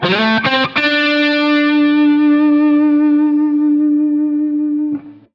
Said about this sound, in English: gradually bring the vibrato in, maybe even starting off subtle and increasing the intensity of it